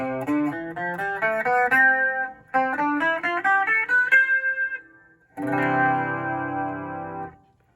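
A clean electric guitar, an Eko Wood EH-5 hollow-body on its rear pickup, picks bright melodic notes in two phrases, then lets a full strummed chord ring out and fade.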